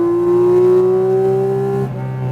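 A Porsche 718 Cayman GT4 RS accelerates on a race track, its engine note climbing loud and close as a smooth rising whine, then dropping abruptly near the end as if shifting gear or lifting off.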